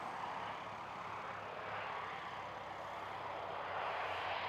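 An ATR turboprop airliner arriving at Christchurch airport gives a steady, broad engine roar that holds at moderate distance throughout, swelling slightly toward the end.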